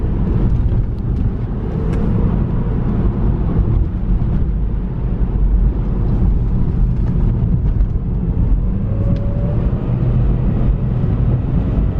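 Remapped BMW 320d diesel car accelerating hard through its gears, a steady loud engine drone with low rumble and brief shifts in pitch heard from inside the cabin, no talk.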